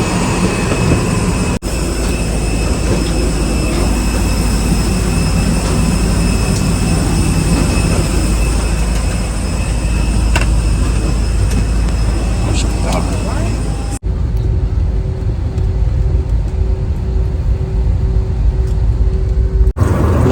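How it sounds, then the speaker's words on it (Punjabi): A steady, loud jet airliner engine drone with a high whine fills the air in Sri Lanka, people talking over it, and the roar dips noticeably toward the end. "ਇਹ ਰਿਹਾ ਆਪਣਾ ਜਹਾਜ਼ ਇੱਥੇ ਚੱਲਾਂਗੇ ਆਪਾਂ"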